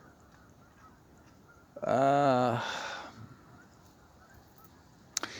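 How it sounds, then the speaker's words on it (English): Geese honk in a brief, loud cluster of nasal calls lasting about a second, heard outdoors against quiet background hiss, with a single spoken word before and a sharp tap afterward. "I hear some geese."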